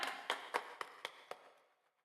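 At a church groundbreaking service, about six sharp, evenly spaced claps ring out close by and fade away within two seconds, sounding like a single person clapping rather than full applause.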